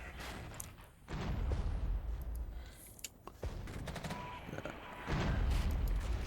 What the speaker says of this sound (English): Firing on him.